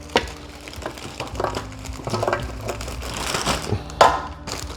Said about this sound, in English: I just dump it into my gallon Ziploc baggie